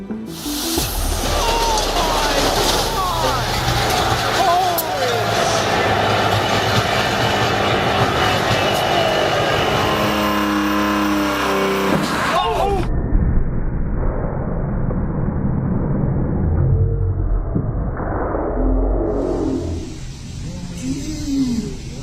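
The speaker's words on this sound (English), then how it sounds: "here's one of the most catastrophic dyno failures we've seen before" A motorcycle engine on a dyno, revving hard with a loud roaring whine before failing catastrophically with abrupt breaking and clattering, then a muffled rumble afterward.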